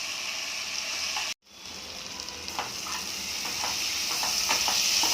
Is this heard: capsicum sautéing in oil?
yes